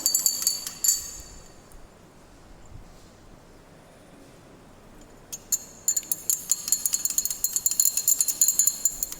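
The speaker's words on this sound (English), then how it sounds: "I am stirring it properly." Light glassy clinks and rattles of stirring an HCl solution in a beaker after adding 10 ml of NaOH during a pH-metry titration in a lab. Bursts come at the start and again through the final seconds, with a quiet stretch between.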